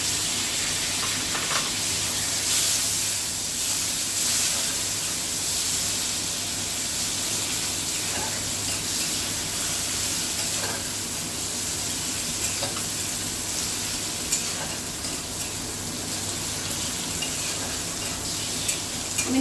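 Tomatoes and green chillies sizzling among frying onions in a pan, a loud continuous hiss with occasional stirring scrapes, steady for the whole stretch without speech.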